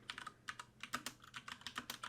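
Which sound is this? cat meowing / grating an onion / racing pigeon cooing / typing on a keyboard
typing on a keyboard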